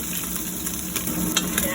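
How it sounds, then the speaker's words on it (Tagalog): Steady sizzling of pork frying in a hot pan, its fat rendering into oil, a continuous crackling hiss with occasional louder pops, close up and without talk. "Pa-fry muna natin ng bahagya yung ating pork."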